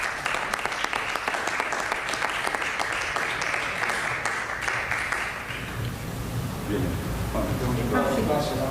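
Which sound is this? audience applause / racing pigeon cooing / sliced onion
audience applause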